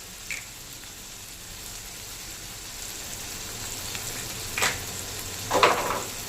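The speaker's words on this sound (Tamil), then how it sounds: "இப்போ வந்து தக்காளி போட்டுக்கலாம்." Onions and tomatoes frying in a pan with salt and turmeric give off a soft, steady sizzle, with a few brighter crackles and stirring scrapes near the end.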